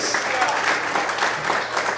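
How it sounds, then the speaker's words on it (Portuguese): A church congregation claps in praise during a Portuguese-language worship service, a steady, fairly loud burst of many hands with faint crowd murmur underneath. "Você pode aplaudir e glorificar o Senhor essa manhã, aleluia."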